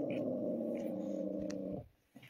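Dogs growl in a low, continuous rumble close by, holding steady for under two seconds before cutting off, followed by a faint short sound and quiet, with no talking.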